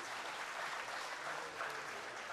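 Applause at a school annual day ceremony, a dense, sustained crowd clapping that stays steady and fairly distant throughout.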